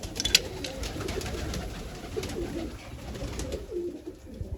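Large black Chinese pigeons coo in a loft, a soft low cooing over steady background noise, with a few faint higher chirps near the start.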